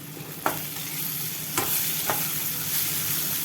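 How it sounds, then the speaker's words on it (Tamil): Brinjal (eggplant) pieces sautéing in a pan, giving a constant loud sizzle and hiss with a few sharp spatula scrapes spread through it, and no voices. "இன்னும் கொஞ்சம் கத்திரிக்காய் நல்லா அப்படியே சுருங்குற மாதிரி வதங்கணும் வதங்கட்டும்"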